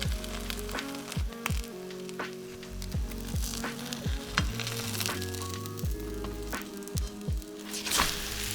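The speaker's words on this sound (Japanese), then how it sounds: "上に生地を乗せて弱火で油揚げがカリカリになるまで数分焼きます。" Vegan okonomiyaki batter sits on fried tofu in an oiled pan over low heat, sizzling and frying steadily up close, with crackling pops and soft clicks scattered throughout.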